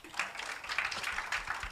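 Conference audience at a meditation leaders' gathering in Dubai applauds a speaker, a brief burst of scattered clapping from a modest crowd, somewhat distant and soft.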